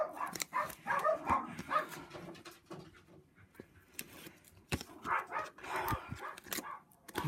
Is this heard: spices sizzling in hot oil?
no